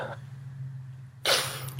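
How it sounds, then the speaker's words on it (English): A single sharp sneeze bursts out near the end after a quiet stretch over a low steady hum. "Oh, I'm so sorry I had to sneeze."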